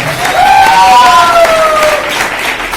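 An audience at a motivational speech breaks into loud, dense applause with a few rising whistles cutting through the crowd noise, close and sustained.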